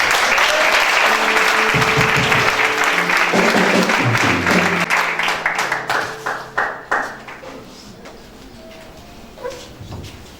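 A church congregation claps and applauds loudly together; the dense clapping thins into scattered individual claps and fades out, with a few faint voices near the end.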